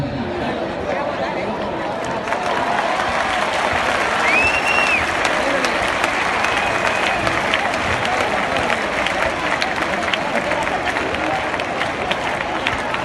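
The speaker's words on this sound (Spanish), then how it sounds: "¡Palmas!" Applause and cheering from a crowd at a recortes contest in Valencia, steady broadband clapping with a brief whistle-like tone and background murmur throughout.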